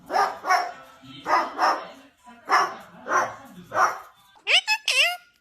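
Repeated bark-like calls in paired bursts, fairly close and clear, ending in a few higher, wavering squeaky cries; the sounds fit a puppy barking, though a parrot mimicking barks is also possible.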